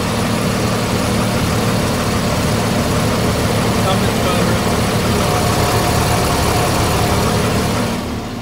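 A 2006 Ford F650 Super Duty XLT rollback/wrecker tow truck with a Cummins diesel engine idles steadily up close, a constant low rumble that runs unbroken before fading slightly at the end.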